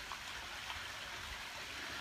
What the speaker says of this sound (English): I'm here in my backyard. See my water fountain?